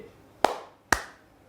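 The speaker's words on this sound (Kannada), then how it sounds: "ನಾನು ಎರಡು ಚಪ್ಪಾಳೆ ತಡ್ತೀನಿ" A teacher claps her hands twice in a classroom, two sharp, close claps about half a second apart with brief room ring after each, no speech.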